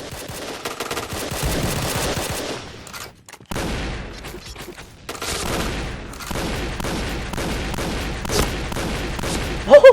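Gunfire in the online shooter Point Blank, rapid automatic bursts and fusillades rattling almost nonstop, broken by one short silent gap, loud and close with a few sharper shots at the end.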